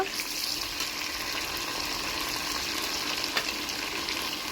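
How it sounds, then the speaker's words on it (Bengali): Garlic, potato and onion fry together in a pan for a mutton curry, giving a steady, moderate sizzle that hisses evenly throughout with no voices. "এখন আমি পেঁয়াজের সাথে একসাথে ভেজে নেব।"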